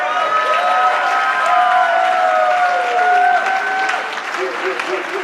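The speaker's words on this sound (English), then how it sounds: "warm round of applause for David Wood" Audience applause greets a debater taking the podium at a live debate event, sustained and loud with crowd noise and a voice talking over it.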